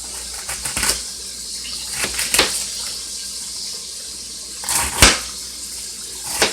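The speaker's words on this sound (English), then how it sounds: "You can hear how bacon is starting to heat up and fry." Bacon starts to heat up and fry in a pan, giving a steady close sizzle and hiss with scattered louder crackles and pops, and no talking.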